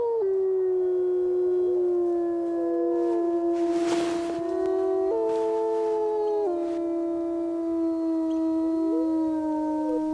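An omega wolf howls mournfully: one long, sustained, tonal cry that steps up and down in pitch, carrying on steadily and alone for about ten seconds.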